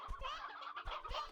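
Chickens clucking in the video game Slime Rancher 2, a busy flock of close, overlapping squawks and clucks in quick irregular bursts with no talking.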